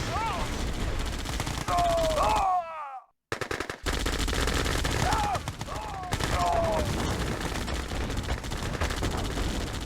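Rapid automatic gunfire from units attacking a radar building in the Yuri's Revenge real-time strategy game, dense sustained bursts with whistling projectile tones, a brief near-silent gap midway, then continuous firing again; no speech.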